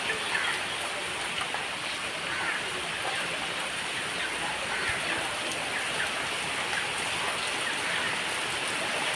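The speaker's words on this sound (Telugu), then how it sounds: "మరి పెద్ద పెద్ద చినుకులు పడుతుంది నేను వడగళ్ళ టైప్లో." Heavy rain with large, hail-like drops pours down steadily, a dense continuous hiss and patter close by with no letup.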